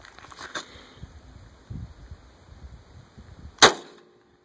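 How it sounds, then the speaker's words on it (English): A 9mm RBCD round fired from a Ruger P89DC pistol into ballistic gel at about five feet: a single sharp, loud report cracks out after a few seconds of quiet background noise, then fades to silence. "RBCD 9mm round out of the Ruger P89DC"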